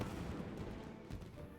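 Fireworks bursting in Genshin Impact, a dense run of crackling pops and booms at moderate loudness with no talk over them.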